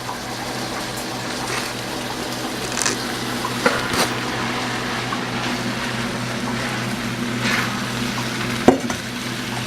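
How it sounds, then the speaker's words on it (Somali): Rice stirred into a frying pan of partly cooked Somali fried rice, giving a steady low sizzle with scraping stir strokes and a sharp clank near the end; no one talks. "I'm adding the rice."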